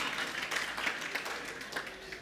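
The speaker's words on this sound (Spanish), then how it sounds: "decídanse si van a aplaudir" A church congregation applauding during a sermon, a dense patter of many hands clapping at a moderate level, steady and sustained with no voices over it.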